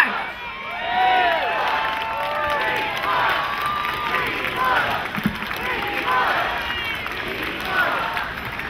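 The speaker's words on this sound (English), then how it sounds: "What a beautiful crowd" Large crowd at an anti-war rally cheering and shouting in a sustained roar, with scattered whistles and applause filling the space.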